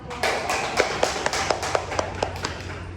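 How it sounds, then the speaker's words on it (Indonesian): A small classroom group claps for a student's answer during a micro-teaching lesson, a brief run of close, rhythmic hand claps that thins out over a few seconds, with no talk over it. "Kasih aplaus dulu"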